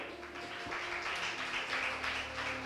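Sustained audience applause at a school music or drama competition between Parental Care and Mbarara Junior, a steady broadband wash of clapping filling the whole stretch at moderate distance, with no talk over it.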